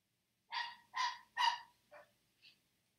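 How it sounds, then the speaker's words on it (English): Dogs barking indoors in the distance, three clear barks in quick succession followed by two shorter, fainter yips, with silence around them and no talking. "we're going to have to deal with the dogs barking for about 10 minutes while he comes in"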